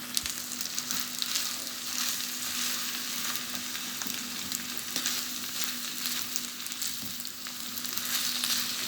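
Potatoes sizzle and crackle steadily as they fry in a pan and are stirred, a continuous close, dense hiss with small scraping bumps and no talking.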